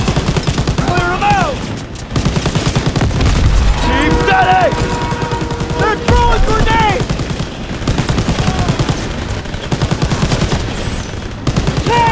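Gunfire from the World War II shooter Call of Duty: WWII, loud and continuous bursts of automatic fire running through the whole stretch, mixed with shouted voices and game music.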